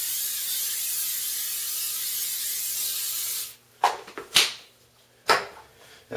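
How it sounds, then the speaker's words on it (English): A long steady hiss of cooking oil aerosol sprayed onto a pan, lasting a few seconds, then a quiet pause and a few soft clanks and knocks nearby. "Spray your pan down."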